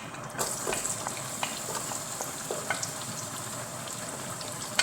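Red onions with salt frying in a pan for watermelon rice, giving a steady close sizzle with scattered crackles and a few light stirring clicks, no talking.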